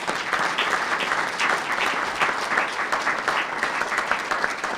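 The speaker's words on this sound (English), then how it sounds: "I do want to ask for another round of applause for everybody standing here" A crowd gives sustained, dense applause for the people gathered at a racial equity bill signing, loud and even throughout with many overlapping claps.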